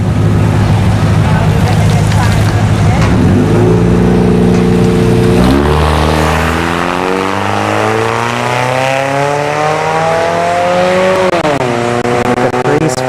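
A Honda CRV and a Chevrolet Caprice launch and accelerate down a dragstrip, loud engines revving through rising, shifting pitches with a burst at the start and later gear changes, while an announcer talks over the racing.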